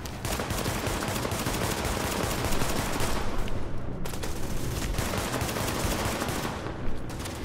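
Assault rifle fire in Tom Clancy's The Division, dense rapid bursts of automatic shots rattling almost continuously and loudly, with brief gaps between bursts.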